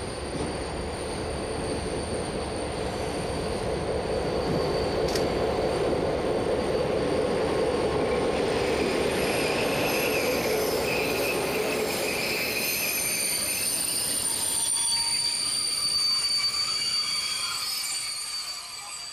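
A Belgian Class 62 diesel-electric locomotive rolls steadily past nearby, its wheels squealing high and continuous over a deep rumbling engine drone that eases off toward the end.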